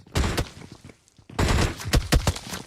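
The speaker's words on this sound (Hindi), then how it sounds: "अंधाधुन दो शॉट यहाँ पे कनेक्ट किए हैं शॉट गन की" Shotgun blasts in a battle royale video game: two loud bursts of gunfire close together, a short quiet gap, then a rapid run of sharp shots, all without talk.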